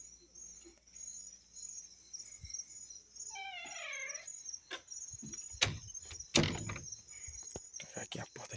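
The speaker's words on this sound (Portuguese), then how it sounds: "Aqui tá um cachorro aqui no chão." A dog in a backyard, on the ground outside a door, gives a brief rising-and-falling whine amid scattered clatter and knocks, with a faint high electrical hum throughout and soft voices nearby.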